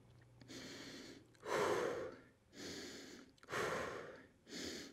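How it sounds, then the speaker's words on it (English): Heavy breathing between sets of a resistance band workout, with five quick alternating inhales and exhales, close and fairly loud, and no talking. "Quick breath."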